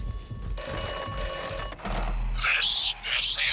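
An in-game telephone in the video game Atomfall rings with a loud, sustained, buzzing electric bell for over a second, followed by sharp electronic bursts.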